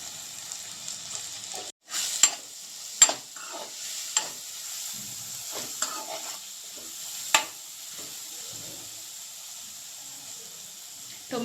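Tomatoes and green chillies frying in a pan, a quiet sizzling hiss with scattered scrapes and clicks of stirring, one sharper knock near the middle.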